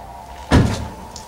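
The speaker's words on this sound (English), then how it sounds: "Let me grab this door over here." A General Motors car door shuts with a single solid thunk, close and short, against quiet background.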